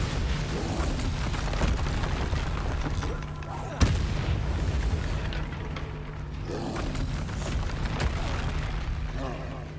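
A Bombarda spell explosion in Hogwarts Legacy: a sharp, loud blast that cuts through a dense, booming game soundscape of rumbling effects, with a voice calling out over the din.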